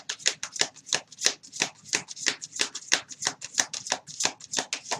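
Tarot cards shuffled by hand in a steady, rhythmic run of crisp riffling bursts, close and fairly loud throughout, with no talking.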